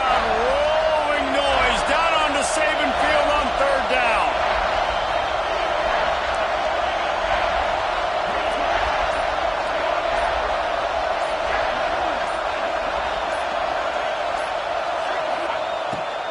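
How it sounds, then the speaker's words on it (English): Stadium crowd noise in the college football video game NCAA 26, a home crowd on third down at Saban Field making a steady, loud, roaring wash that never lets up, with faint whistles and shouts early on. "The Tide crowd rolling noise down onto Saban Field on third down."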